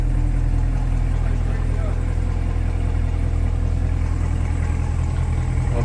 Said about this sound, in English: Love the sound of that engine.